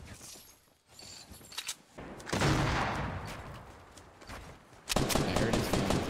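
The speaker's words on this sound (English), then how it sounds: "I heard his gun." Bursts of Fortnite gunfire, a scattered volley of shots followed by a louder, denser stretch of rapid firing near the end, with no talking.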